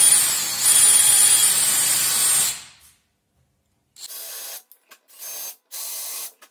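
Power drill with an 8mm bit countersinking screw holes in a K2 Talkback 88 ski for a Fritschi Diamir Scout 11 binding mount; a steady close whir runs about two and a half seconds, then after a pause comes a series of short bursts.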